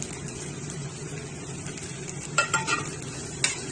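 Coriander, cumin and chilli powders with salt being stirred into an egg curry masala in a pan, with a low sizzle and a few spoon scrapes and taps near the end.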